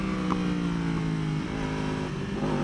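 A 2015-or-later Yamaha R1 superbike on a race track accelerates hard in first gear, its engine note loud, steady and continuous, rising in pitch with no talk over it.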